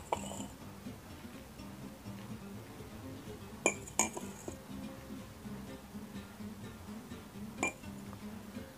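Glasses and nails handled on a tabletop, a few sharp clinks and taps at scattered moments against a quiet room background, with faint movement noise between them and no voices.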